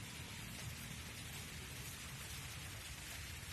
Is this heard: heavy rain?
yes